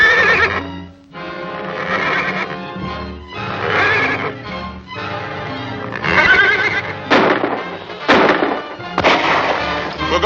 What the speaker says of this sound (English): Smelling salts will make my horse whinny. Any other horses within hearing will answer him.